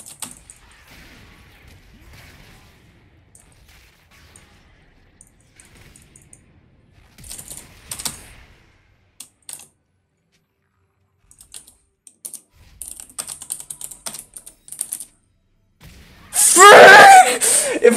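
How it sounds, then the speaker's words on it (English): Clattering keystrokes on a computer keyboard come in scattered bursts and quick runs of taps, mostly close and light, broken by quiet gaps, with a loud game sound erupting near the end. "If I wasn't typing, I would have noticed it."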